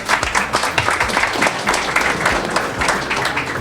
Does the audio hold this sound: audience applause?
yes